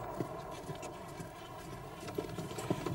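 A horse led by a mountain guide walks a cold, steep mountain path near the equator, its hooves clopping in an uneven rhythm of scattered close steps over a steady background hum, without talk.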